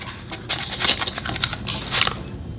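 Anastasia Beverly Hills Luminous Foundation packaging being opened by hand, with crisp crinkling and tapping of cardboard and plastic in quick irregular bursts, close up and with no talk.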